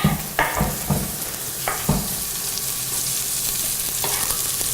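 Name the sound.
garlic frying in a pan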